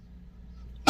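A single sharp cough bursts out at the very end after near-silence, loud and close.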